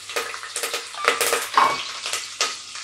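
Whole garam masala, ginger, garlic and curry leaves fry in hot oil in a pan, crackling and spitting in sharp bursts alongside a few stirring scrapes, close up and fairly loud.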